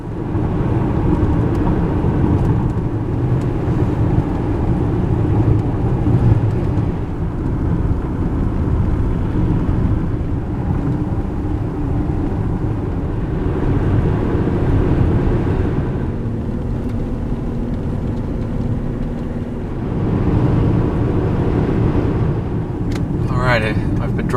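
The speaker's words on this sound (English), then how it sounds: "I've been driving for a long time now" An SUV cruises along a road near a national forest in New Mexico, its cabin filled with a steady low road and engine drone that runs throughout under a person talking.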